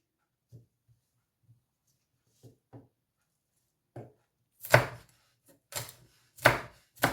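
A knife slices two spring onions diagonally on a board. Soft, spaced taps come first, then louder crisp chopping strokes close by, with several separate cuts toward the end.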